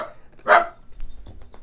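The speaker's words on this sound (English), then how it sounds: "He sits by my feet and then he'll just randomly start barking." A small dog gives a single sharp, close bark, followed by faint scuffling and soft movement noises in an otherwise quiet indoor room.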